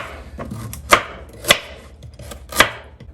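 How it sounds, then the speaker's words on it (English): A knife chopping ingredients on a cutting board for a lemon pepper garlic and herb roast chicken, three sharp, separate knocks spaced about half a second to a second apart, with faint softer cuts between, close up and no talking. "Chop them on up."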